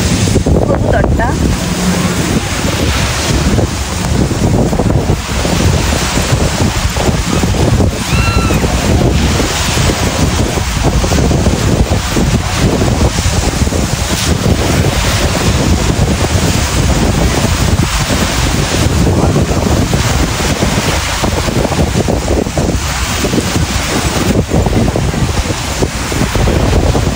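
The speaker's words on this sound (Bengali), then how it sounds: "অনেক উত্তাল ঢেউ" Rough sea waves pound Jomtien Beach in Pattaya, a loud, continuous roar of surf and wash with heavy wind buffeting the microphone throughout.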